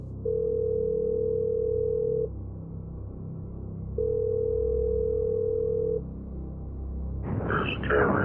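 A telephone line tone opens a recorded phone call: two long, steady electronic beeps of about two seconds each, separated by a pause over a low line hum, followed by a burst of noisy line sound.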